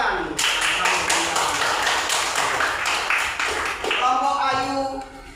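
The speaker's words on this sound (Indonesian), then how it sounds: "Tepuk tangan" Schoolchildren clap together in a classroom Quran recitation session, a steady dense patter of many small hands lasting several seconds, with voices mixed in near the end.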